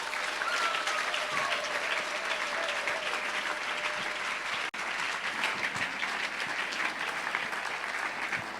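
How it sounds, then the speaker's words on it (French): Audience applause fills a church service, a dense, steady wash of clapping from many hands that continues for over eight seconds at moderate distance, broken only by one brief dropout midway. "Nous invitons ici le prophète Alan Kyriakou, sous vos applaudissements."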